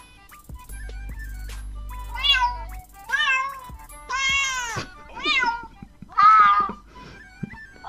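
A cat translator app plays a string of synthetic cat meows, five or six distinct mews with varied pitch, after a short buzzing tone, with faint speech between them.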